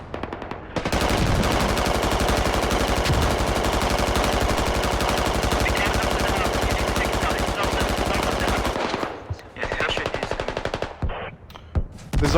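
Sustained, rapid machine gun fire from an MG in a tactical shooter game rattles loudly and continuously for several seconds, then breaks into shorter bursts near the end.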